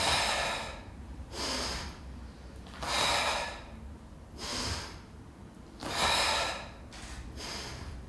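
Rhythmic, forceful breaths during a Pilates plank with opposite arm and leg stretches, repeated exhales and inhales in steady alternating bursts, close and fairly loud, with no talking.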